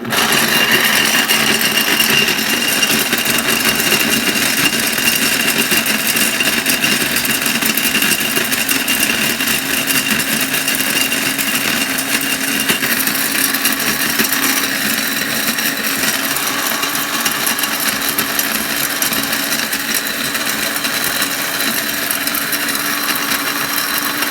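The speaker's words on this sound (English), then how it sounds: "I have my last round here to blend, to grind." A blender grinds dehydrated turmeric rhizomes into powder, a loud, steady motor whir with a gritty rattle that runs unbroken for the full stretch, close and alone without any talk.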